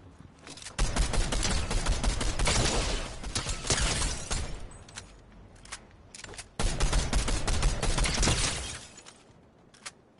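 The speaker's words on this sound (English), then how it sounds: "Yo, I'm shooting at them." Rapid bursts of gunfire from a Fortnite match, loud fusillades in two long stretches with a quieter lull between, heard alone without talk.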